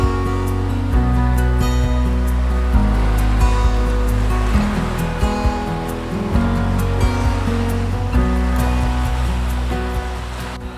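Ocean waves roll steadily onto a beach on Rottnest Island, a continuous loud wash of surf with repeated swells and no talk.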